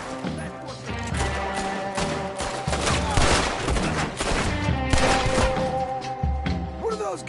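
Heavy gunfire in Red Dead Redemption 2 on PS4, sustained volleys of shots and cracks from several guns at moderate distance, with faint voices underneath.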